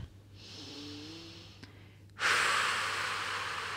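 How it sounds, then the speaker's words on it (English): Slow, deep breaths during a floor yoga exercise with both knees hugged in: a soft airy exhale, then a brief pause and a louder, rushing breath that carries to the end, close and alone. "hugging both knees in for a few deep breaths"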